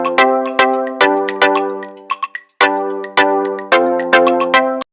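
A notification bell sound effect plays as a bright, melodic chime sequence, with a quick run of ringing tones repeated twice and brief pauses between the notes.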